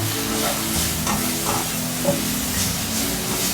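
Chicken and spices being stirred in a pan over low heat, with a steady soft sizzle and occasional scraping strokes of the spoon. The sound is close and there is no talking.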